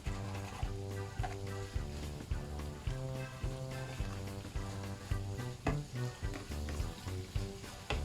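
Ground meat and other cabbage casserole ingredients sizzle steadily in a pan, with a constant frying hiss and a series of rhythmic scraping stirs, close and moderately loud, no talking.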